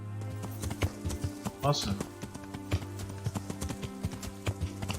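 Horse hooves trot on and on in the medieval game Kingdom Come: Deliverance, giving a regular clip-clop rhythm with a brief neigh, while someone talks over the steady footfalls.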